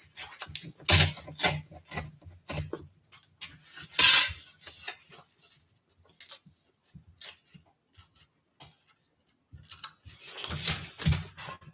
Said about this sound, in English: This is too much, so I will cut this in half.